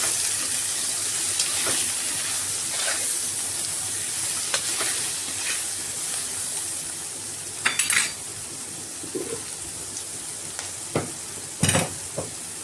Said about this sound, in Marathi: ते थोडा परतते.